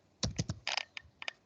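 A short burst of computer keyboard typing as a command is entered, about eight crisp key clicks in quick uneven groups, close and fairly quiet, with no voices.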